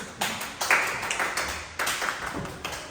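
An audience gives a rhythmic group clap at a Turner society gathering, a series of about eight sharp, evenly spaced unison claps in a room, each one dying away before the next.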